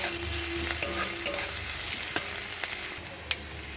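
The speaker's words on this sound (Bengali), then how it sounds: "কুচিয়ে রাখা কয়েক কোয়া রসুন সাথে একটা কাঁচা লঙ্কা কুচি খুব ভালো করে তেলের মধ্যে ভেজে নেব" Chopped garlic and green chili fry in hot oil, a loud, close, steady sizzle with a few stirring clicks, easing slightly near the end.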